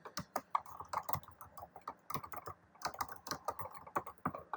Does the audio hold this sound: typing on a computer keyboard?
yes